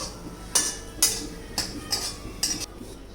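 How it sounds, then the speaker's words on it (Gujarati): Roasted pistachios being scraped out of a pan onto a dish, a series of about six sharp metallic spoon-on-pan clinks and scrapes at irregular intervals, close and fairly clear, with no speech. "પિસ્તા ગુલાબી થવા આવ્યા એટલે હવે આપણે એને ડીશમાં કાઢી લઈશું."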